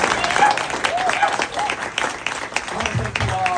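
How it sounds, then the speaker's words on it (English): Applause at a Democratic club gathering, with steady, dense clapping from the crowd throughout and voices talking over and under it. "Let's give her a round of applause"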